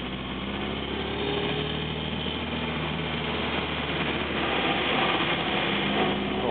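1934 Morris 10 Convertible engine running on the road with a quiet gear change into third, a steady buzzing drone and road rush throughout with no clear break.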